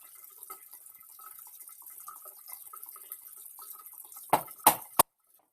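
Tap water runs in a darkroom sink during black-and-white film developing, a faint steady trickle with scattered drips, then three sharp, loud clanks near the end before sudden quiet.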